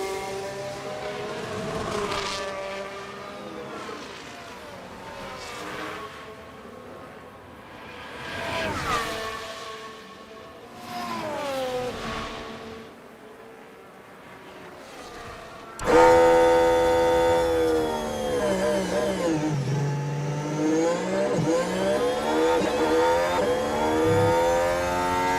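Formula 1 race cars in the F1 Manager 2013 racing game at the Canada circuit whine through gears as they lap, engines rising and falling in pitch as cars pass, then one car screams close and loud near the end.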